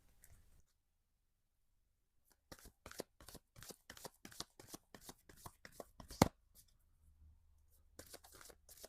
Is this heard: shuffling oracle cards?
yes